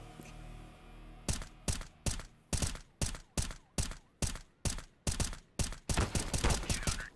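Gunfire in Counter-Strike: Global Offensive, a steady run of about a dozen evenly spaced loud shots, close and punchy, ending in a faster cluster.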